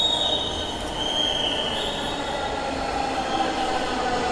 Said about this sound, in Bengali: আর একটা মেট্রো রেল অলরেডি আগারগাঁর দিক থেকে শাহবাগের উদ্দেশ্যে এসেছেন ফার্মগেট মেট্রো রেল স্টেশনে।